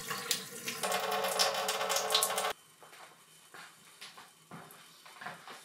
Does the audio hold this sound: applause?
no